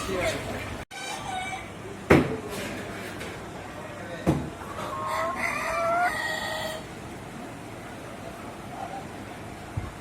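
Chickens cluck and a rooster crows nearby at a market, with scattered calls over a background of people talking.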